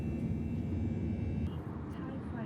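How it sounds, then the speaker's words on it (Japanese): A steady, loud jet engine roar fills the cabin of a VietJet Air plane taking off from Ho Chi Minh City, a continuous low rumble with a faint high whine above it. "ホーチミンシティからバンコク行きの飛行機が出発しました。"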